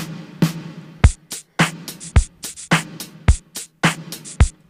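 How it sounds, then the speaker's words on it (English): Punchy drum machine snare hits repeat in a steady groove alongside a deep kick, each crack followed by a big reverberant wash in a classic eighties style. "Create this big kind of 80s snare drum."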